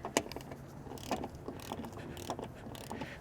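A ratchet with a socket clicks in quick, uneven bursts while it removes bolts from a truck's windshield wiper transmission, faint and close by with no talking.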